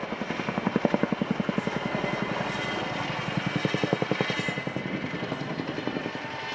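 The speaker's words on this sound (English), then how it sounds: "the Chinook used to show off the other helicopters with its excess of power" A Chinook twin-rotor helicopter at the RIAT 2015 airshow at Fairford thumps loudly overhead, its rapid rhythmic rotor beats pulsing steadily over a roaring engine drone.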